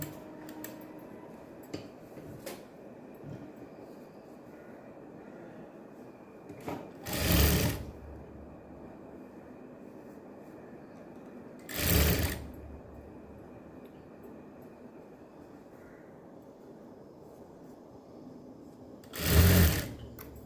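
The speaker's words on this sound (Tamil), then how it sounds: "கட் பண்ணிவிட்டு மறுபடியும் நம்ம இந்த தையல் நம்ம ஸ்டார்ட் பண்ணிடலாம்" A sewing machine works on the back neck of a blouse, its steady needle ticking running low and continuous with three brief loud thumps spaced across the stretch.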